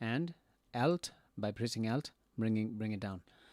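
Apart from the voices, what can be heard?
No everyday noises stand out.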